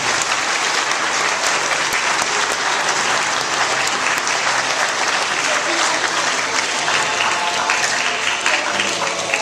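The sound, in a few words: audience applause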